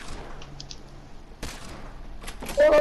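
Video game gunfire crackles in bursts, a faint distant rattle at first, then a sharp loud volley and a dense close burst at the end, with no talking heard.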